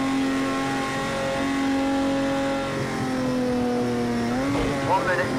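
A Porsche 917 K racing at Spa in Project Cars 2 holds a loud, steady engine drone for several seconds. The drone then rises sharply as the revs climb near the end, with someone talking over it.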